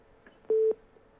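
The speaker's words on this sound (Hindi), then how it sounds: "लगता है अब्बास हाफिज जी का फोन कट गया है" A single short telephone busy-signal beep sounds after a dropped call during a news phone interview, clear but quiet against faint line hiss.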